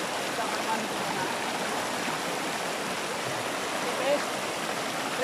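Deep river at Kampung Lelotan flowing in a steady, continuous broadband rush, close and moderately loud with no talk over it.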